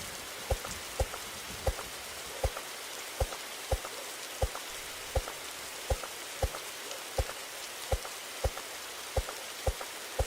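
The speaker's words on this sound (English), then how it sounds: "find shelter from the rain" Rain falls steadily in the Roblox game 99 Nights in the Forest, a constant hiss broken by evenly spaced sharp drip-like taps, alone with no voices.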